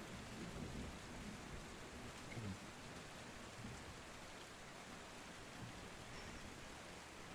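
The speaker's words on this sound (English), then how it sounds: "can hear the lightning strikes outside, the heavy rain" Steady heavy rain pours down alongside low rumbles of thunder, a dense, constant wash of storm noise with a few heavier swells, with no voices.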